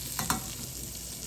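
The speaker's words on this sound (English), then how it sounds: "Got the bacon going" Bacon frying in a pan, a short stretch of steady soft sizzle with two quick clicks or scrapes near the start, heard close and without any talking.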